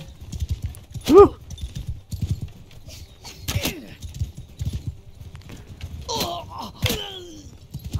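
Hooves clip-clop steadily in Mount and Blade 2 Bannerlord as horses ride through a battle, a rapid even patter with scattered shouts and sharp game effects on top.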